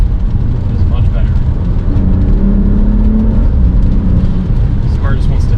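BMW F30 with a BOOTMOD3 burble exhaust tune revving hard, a loud, steady engine roar with rising pitch and a few crackles near the end, filling the whole stretch with no talk over it.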